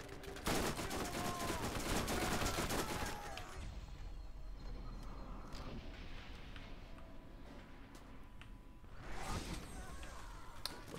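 Weapon fire in Borderlands, a dense, loud burst of rapid automatic shots for the first few seconds, then lighter scattered shots and game noise, with a second flurry near the end.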